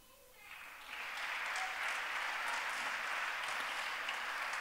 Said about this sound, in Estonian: Aplaus on kohale lennanud